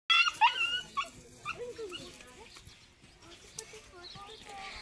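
Small puppies at home whimper and yip in high, thin bursts near the start, followed by softer scattered whines and rustling amid a low murmur of background voices.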